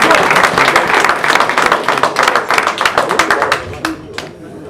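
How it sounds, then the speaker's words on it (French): Audience applause for a player at an amateur football club's official team presentation in Aywaille, a dense burst of many hands clapping that stays loud throughout and tapers slightly near the end. "je voudrais qu'on applaudisse notre ami Ludovic Ferron"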